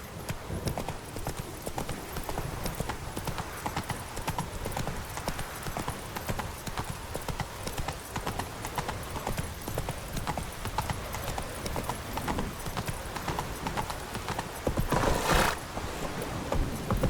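Hooves of Roach, the horse in The Witcher 3: Wild Hunt, clop steadily in a brisk, even rhythm, close and moderately loud, with a brief snort or whinny near the end over soft game ambience.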